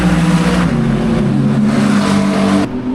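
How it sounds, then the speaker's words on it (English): Loud, steady engine roar of supercars racing around a track in Saudi Arabia, with high-pitched motors droning and shifting pitch as they speed past, ending with a slight drop. "It sounds like supercars flying around the track."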